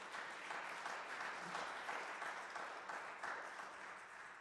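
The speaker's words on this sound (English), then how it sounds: "I appreciate the applause." A concert audience applauds after a sung art song, a steady wash of many hands clapping at a fairly faint, distant level, sustained without talk.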